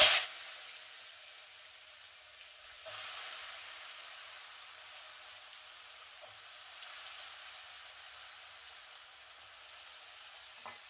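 Broad beans (goruchikkudu) for pulihora hit a hot pan with a sharp initial crackle, settling into a steady, close sizzle that swells briefly and carries on evenly.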